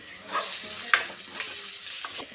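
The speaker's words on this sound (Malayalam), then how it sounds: "ഉള്ളി ഏകദേശം ഒന്ന് ചെറുതായി വഴണ്ടു വന്നിട്ടുണ്ട്" Onion, ginger and crushed garlic sizzle softly in a pan, giving a faint, steady frying hiss with a few light stirring ticks.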